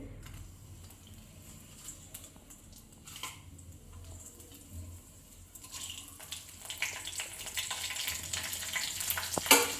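Whole spices frying in a kadhai for shahi paneer, quiet low rustling that swells in the second half into a louder, crackling sizzle with scattered pops.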